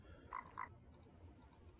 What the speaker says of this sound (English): Shoot, I heard the cricket.